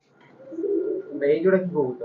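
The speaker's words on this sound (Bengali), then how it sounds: "এই জুড়া হলো রয়্যাল টেটি কবুতর কবুতর দুইটা দেখেন" Soft, low cooing from a pair of Royal Teti pigeons repeats in a warbling rhythm over about two seconds, fairly close, with no other sounds around it.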